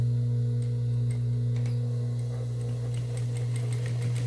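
A sewing machine double stitching over a fabric edge hums with a steady motor drone and faint repeated ticking of the needle, close and continuous.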